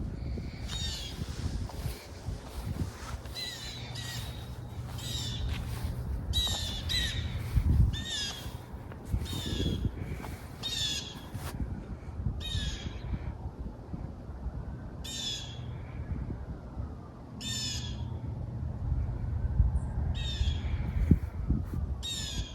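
A crow caws repeatedly in a backyard garden in November, its harsh calls coming in irregular bursts over a rumbling outdoor background, fairly close and loud.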